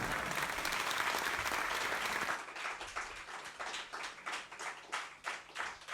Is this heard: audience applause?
yes